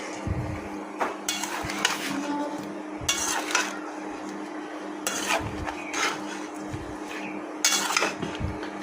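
Cucumber slices are stirred and sautéed in a pan over a steady sizzle, with repeated bursts of metal spoon scraping and clanking against the pan, close by.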